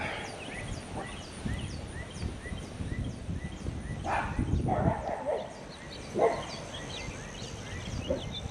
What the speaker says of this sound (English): The little doggies.